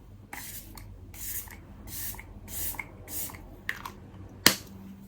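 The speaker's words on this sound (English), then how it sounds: "This is a great setting spray" A bottle of Rare Beauty setting spray is shaken and then sprayed in several short, close hissing bursts, separated by brief pauses, with a sharp click near the end.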